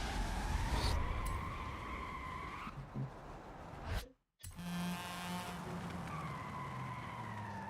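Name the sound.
race car wheels locking up under braking, from a racing video game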